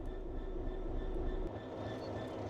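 A train rumbles steadily in Train Sim World 3, with a continuous low mechanical drone, a faint whine above it and a drop in the engine note partway through, close and unbroken without any voices.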